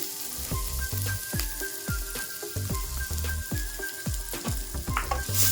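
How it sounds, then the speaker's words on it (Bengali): Chopped onion fries in a little oil in a pan with a constant bright sizzle, punctuated by regular scraping strokes of a spatula stirring at an even rhythm, close and clear with no voices. "অল্প তেল দিয়ে কুচো করে রাখা পেঁয়াজটা দিয়ে দিলাম"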